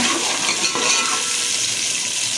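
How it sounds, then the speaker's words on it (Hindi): Onions fry steadily in hot oil for mutton paaya, a dense, close, continuous sizzle with no talking. "ये प्याज है इसको तो तलें"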